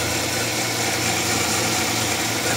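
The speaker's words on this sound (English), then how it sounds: "the AC compressor is messed up and got a smoke show going on here." A faulty car air-conditioning compressor runs steadily alongside the idling engine, giving a continuous mechanical drone with a faint knocking vibration and no break across the short stretch.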